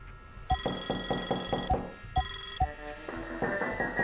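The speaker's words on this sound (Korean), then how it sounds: "벨소리도 바꿀 수 있나봐." Repeating electronic phone ringtone in the horror video game Play with Me: bright tonal chimes in a steady pulsing pattern, pausing briefly, then restarting before switching to a different melody near the end, with no talk over it.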